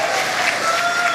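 Crowd cheering and applauding at the Polaris Dawn splashdown, a dense, steady wash of clapping and voices heard at a moderate distance with no pauses.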